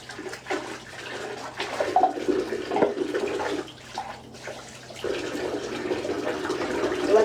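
Hot water running from a tap into a sink during dishwashing, a steady close splashing rush with shifting intensity and a brief dip near the middle, no voices.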